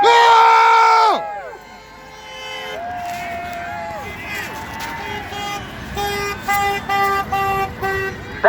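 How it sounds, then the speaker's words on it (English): Car horns honk at a political rally: one long loud blast, then a sustained toot and a series of short repeated honks, with crowd noise and voices underneath. "This is what honking at a rally sounds like"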